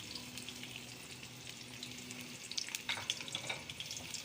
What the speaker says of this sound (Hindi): तो हमारा ऑयल जो है वो गर्म हो चुका है। अब हम इसमें गोल कटी हुई प्याज डाल देंगे